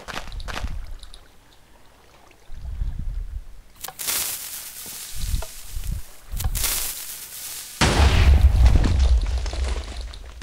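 TNT cannon blasts in a video game go off as several loud booming bursts, separated by short quieter gaps, ending in a sustained rumbling crash.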